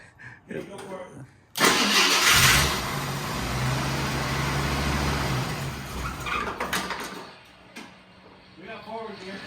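An AMC Eagle car cranks and starts, bursting into a loud revving roar before settling into a steady idle as the engine keeps running. Voices speak briefly before and after.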